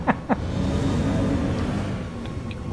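A rover's engine in Star Citizen rumbles steadily while being driven and yanked into a handbrake turn, with a couple of short sharp knocks near the start and faint ticks later.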